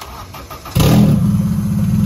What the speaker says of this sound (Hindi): अब जरा चेक करते हैं कि 24 फर्स्ट स्टार्ट है कि नहीं।